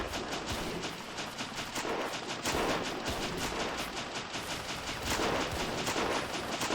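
Rifle fire in the video game Battle of Empires: 1914-1918, set at the Battle of the Nek against storming Anzac soldiers, rattles on continuously as dense overlapping shots and volleys, loud and steady throughout with no voices.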